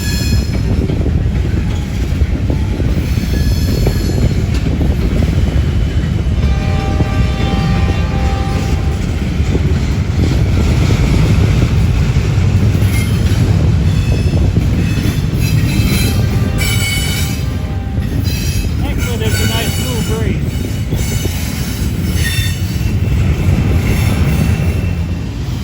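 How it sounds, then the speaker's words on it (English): A long CSX coal train rolls steadily past heading westbound in southwest Indiana, a loud continuous rumble of railcars with faint wheel squeal and clicking rail joints throughout, no talking. "that CSX coal train went by"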